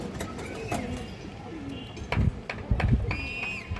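Pigeons at a farm breeding colored, racing and high-flyer birds give soft intermittent coos amid shuffling and light knocks, with a few brief chirps and a voice nearby.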